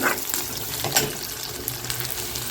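Onions and curry leaves sauté in a pan with a close, steady sizzle and crackle, broken by a couple of brief spatula scrapes.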